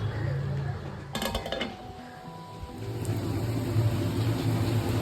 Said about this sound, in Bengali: আপাতত রাইসটা ধুচ্ছি।